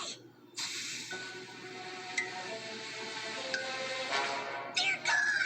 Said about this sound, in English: I have finally created an anti-hiccup throat spray.